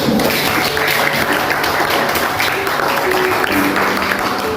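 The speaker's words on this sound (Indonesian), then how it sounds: "Kita beri aplaus." Students in a classroom clap together in sustained, even applause lasting several seconds, a dense steady patter with a faint background hum and no talking over it.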